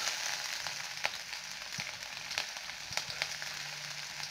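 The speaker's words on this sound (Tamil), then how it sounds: "இப்போ ஆயில் காய்ஞ்சிருச்சுங்க. வெங்காயம் போடுறோங்க." Sliced onions go into hot oil in a home kitchen while cooking radish chutney, giving a faint, steady sizzle with a few soft clicks and stirring taps.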